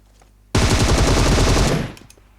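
Loud automatic gunfire in PUBG Mobile, one sustained burst of rapid shots lasting over a second before it tails off. Faint background noise comes before and after.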